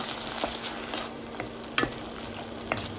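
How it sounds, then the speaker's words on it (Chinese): Minced pork with fish sauce, oyster sauce, soy sauce and a splash of stock is stirred quickly in a hot wok for Thai holy basil pork, giving a steady close sizzle broken by a few sharp spatula scrapes and clanks. "调料加入后呢，我们迅速的搅拌它。"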